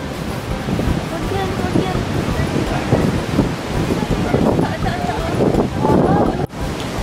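Strong wind at Picnic Grove in Tagaytay buffets the microphone as a loud, constant roaring rush, with voices faintly underneath and a brief dropout near the end.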